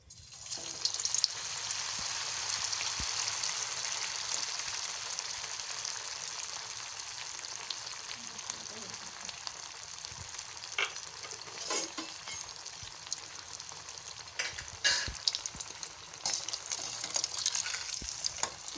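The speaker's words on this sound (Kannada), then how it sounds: "ಕಾಯಿ ಎಣ್ಣೆ ಕಾಯ್ದಿದೆ ಕಾಯ್ದಿರೋ ಎಣ್ಣೆಯಲ್ಲಿ ಕರಿಬೇಕು" Potato snacks deep-frying in hot coconut oil give a steady, close, continuous sizzle and bubble, with a few faint clinks partway through and no talking.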